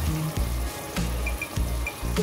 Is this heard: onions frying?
yes